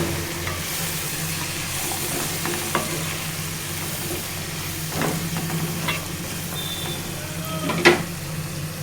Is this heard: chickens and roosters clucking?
no